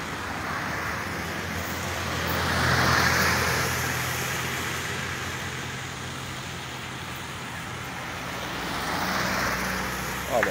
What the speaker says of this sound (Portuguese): O carro tem que desviar aqui, ó. Porque senão pode molhar alguém